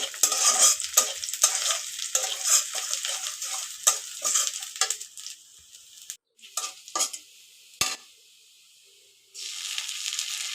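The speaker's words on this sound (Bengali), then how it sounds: "তেজপাতা দিয়ে নেড়ে নেব" Bay leaf stirred and fried in hot oil in a pan: close sizzling with repeated scraping stirs in uneven bursts, fading to a quiet hiss before the sizzle swells again near the end.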